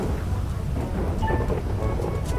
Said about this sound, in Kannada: ಇದು ಯಾವ ಮಳೆ? ನಾನು ಇಡೀ GTA ಈ ಥರ ಮಳೆ ನೋಡಿಲ್ಲ ಇವತ್ತಿನ ತನಕ